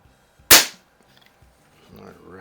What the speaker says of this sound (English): Really strong shooting gun.